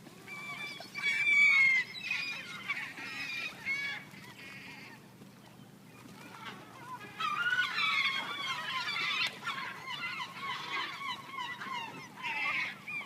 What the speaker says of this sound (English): we're just feeding the seagulls